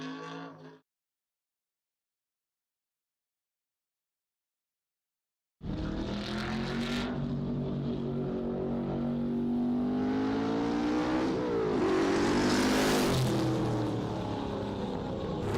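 Race cars, muscle cars on a mountain road course, roar through a hairpin into NASCAR turn 1 after a brief silence, with engines revving and shifting loudly and continuously up close.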